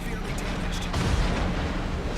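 Warship guns firing in the naval battle game World of Warships: one heavy, booming blast near the middle of the clip, rising above a constant rumbling background of engine and battle noise.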